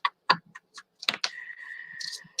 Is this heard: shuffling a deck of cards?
yes